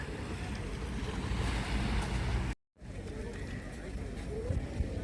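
Sea waves washing on the beach at Miyajima, a steady close rushing wash mixed with wind buffeting the microphone, briefly cut out midway.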